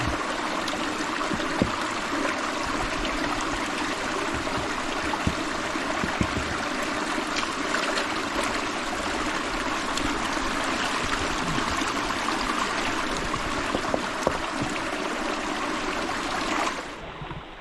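A clean river runs steadily over stones with a constant, close, even rush of water and small splashy trickles, and no voices until it cuts off at the end.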